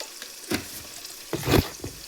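Puliyogare mixture with salt and turmeric is stirred in a pan, two short bursts of scraping and sizzling close by, separated by a brief pause, with no talk.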